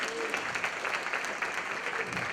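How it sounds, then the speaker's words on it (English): An audience claps for a member who just took the ACT exam live on stage, a fairly soft, even patter of many hands continuing throughout. "You can give her a big round of applause"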